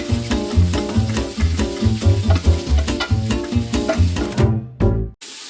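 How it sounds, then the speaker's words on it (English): Carrots and celery being stirred in a hot pot for spicy Asian chicken soup, loud rhythmic scraping and clattering over a frying hiss, close up, ending in a brief drop to near silence. "Now we're going to add in the carrots and the celery and stir these real well."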